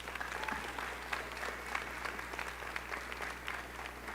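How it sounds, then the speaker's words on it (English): Graduates at a Dalton State College fall commencement ceremony applaud their supporters, a steady, sustained round of clapping from a large crowd in a big hall, even and continuous throughout. "Graduates, please give one final round of applause for all of these people who have supported"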